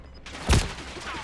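Call of Duty gunfire: one loud, sharp shot bursts out near the middle over a low background rumble, followed by faint distant crackles.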